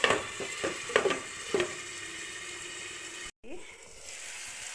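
Chopped cabbage and tomato frying in a pan for cabbage palya, a steady soft sizzle running throughout, with a few clattering stirs near the start and a brief pause partway through.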